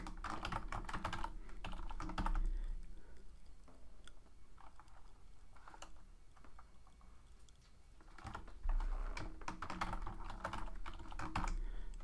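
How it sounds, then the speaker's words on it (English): A password being typed on a computer keyboard in quick, close bursts of key clicks, fairly quiet, with a short pause midway before the rapid tapping resumes. "If I can type."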